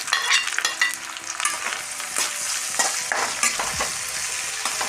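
Onion, curry leaves, ginger, green chili and garlic fry in coconut oil in a pan for a cucumber curry, with a steady close sizzle and frequent scraping stir strokes throughout.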